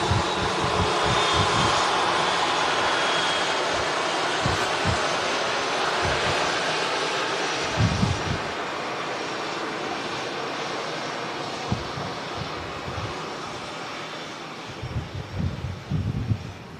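An airliner landing at Manchester Airport, a loud, sustained roar of aircraft engines rumbling low and steady for the whole stretch, heard from outdoors with wind buffeting the microphone.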